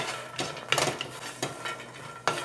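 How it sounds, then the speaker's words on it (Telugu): Lotus seeds roasting dry in a pan, their light rattling and scraping against the metal coming in several sharp bursts over a faint background hiss, close and fairly quiet. "ఇప్పుడు ఈ గిన్నెలోనే ఈ తామర గింజలు వేయించుకోవాలి"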